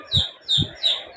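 Chickens let loose, making three short, loud, high chirps close by, each with a low thump beneath, in an even rhythm and with no talking.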